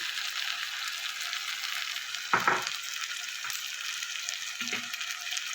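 Masala spices for kadai paneer frying and being stirred in a pan, a steady close sizzle broken by a couple of brief scraping stirs, with no talking.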